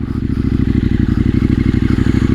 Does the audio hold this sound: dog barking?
no